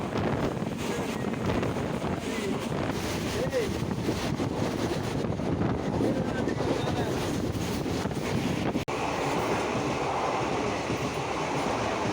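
A train arriving at Pondicherry station rumbles loudly and steadily while wind buffets the microphone, with faint voices mixed into the constant roar.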